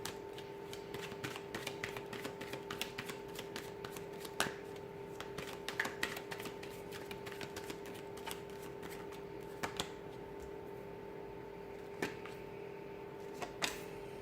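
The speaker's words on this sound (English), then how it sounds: "I'm going to go ahead and give the cards a shuffle here" Tarot cards riffle and slap repeatedly in quick bursts, close and crisp, with a steady faint hum underneath and no voices.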